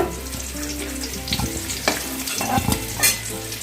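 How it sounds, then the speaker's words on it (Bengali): Potatoes fry in oil while being stirred for a Bengali mutton curry, with a dense, steady sizzle throughout and a few scraping stirs and small clinks on top. "আলুগুলোকে আমি বেশ লাল লাল করে ভেজে নিলাম"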